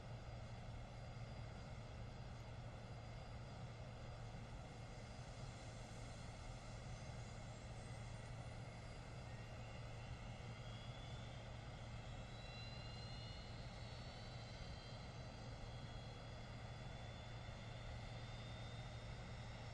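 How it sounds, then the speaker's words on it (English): Turbofan engine of a JARDesign A320 spooling up during startup in the X-Plane 10 flight simulator, a steady loud drone with rising whine tones, continuous and unbroken with no talk. "Let's go engine 2. Starting engine 2."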